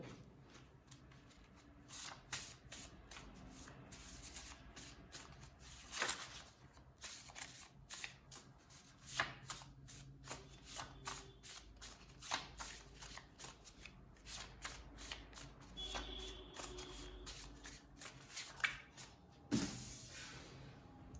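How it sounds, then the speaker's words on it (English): Tarot cards are shuffled close up in repeated quick riffling bursts with soft slaps and pauses between them, continuing for around twenty seconds with no talking. "I'm a little confused. So I'm going to reshuffle."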